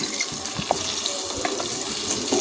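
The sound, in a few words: water poured into cooking pot of mutton shorba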